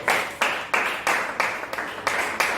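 A church congregation claps in a steady, rhythmic beat, about three to four claps a second, loud and filling the room, with no voices over it.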